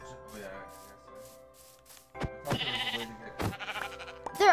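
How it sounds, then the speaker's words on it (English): Sheep bleating in a video game survival world: several nasal, wavering bleats, some close and loud, over soft background game sounds, with no talking. "Oh my god, I found two sheep!"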